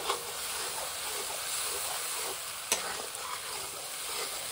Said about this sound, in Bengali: মশলাটা ভালো করে লাল করে ভেজে নিতে হবে